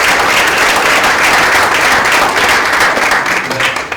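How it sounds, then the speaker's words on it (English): Sustained applause from a conference audience fills the room, dense and steady throughout before thinning slightly at the end. "Give all of them a clap, please."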